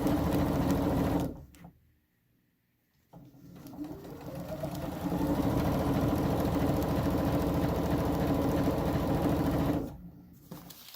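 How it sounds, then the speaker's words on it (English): A sewing machine runs in steady, rapid stitching bursts through fabric, stopping briefly and starting again, close and fairly loud with no talking. "put it in the sewing machine"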